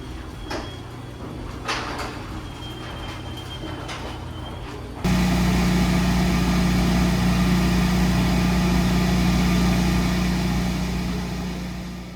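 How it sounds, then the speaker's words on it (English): A petrol generator runs on a home test run, kicking in after a few seconds of quieter background noise and then droning loud and steady at close range with a strong low hum. "That is the current noise of the generator running."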